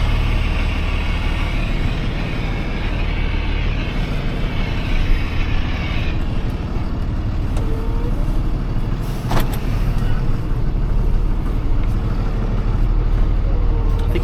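A Toyota Corolla passing during a school drop-off, heard as a continuous loud broadband engine and tyre rumble close by, with a brief sharper click midway and no talking.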